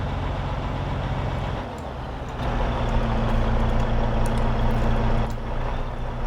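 A Kenworth truck engine in Farming Simulator, pulling a grain trailer over snowy drifts on a Saskatchewan farm, gives a loud, steady low rumble that dips briefly, then settles into a deeper, stronger drone.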